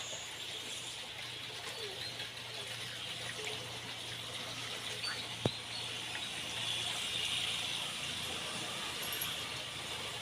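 Water runs steadily at a home washing spot while clothes are washed by hand with detergent, a faint continuous hiss with a single sharp knock midway and no speech.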